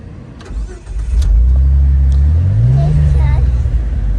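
A Jeep with a manual transmission idles, then its engine note steadies and rises as the clutch is let out and gas is held, a loud continuous low rumble with a climbing pitch sweep, while people talk over it.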